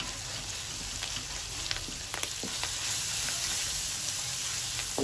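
Telangana-style small fish curry being stirred in a pan, a steady close sizzle and frying hiss with soft scraping stir strokes, no voices.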